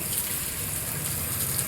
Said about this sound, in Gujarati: પાવડરવાળું પાણી નાખી દીધું છે.